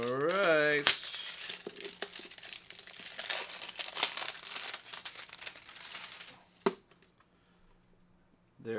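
Unboxing of a Funko Pop Art Series Obi-Wan Kenobi figure, with close cardboard and plastic crinkling and rustling in bursts that fade near the end, following a brief voiced sound at the start.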